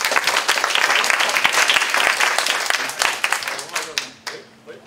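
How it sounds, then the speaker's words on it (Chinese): An audience at the COSCUP 2020 open-source conference claps in a close, crackling burst that thins out toward the end, with voices murmuring underneath. "请大家鼓掌"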